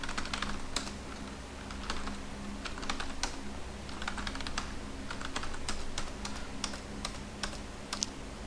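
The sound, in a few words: typing on a computer keyboard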